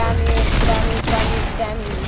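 Rapid gunfire in the Roblox shooter game Arsenal, a dense burst of close shots packed into about two seconds under a steady game background.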